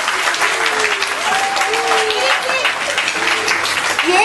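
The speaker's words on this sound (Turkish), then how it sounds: "Arkadaşlarımız için kocaman bir alkış istiyoruz." Sustained applause from an audience at a summer activities award ceremony fills the room, dense and even, with a voice faintly audible underneath.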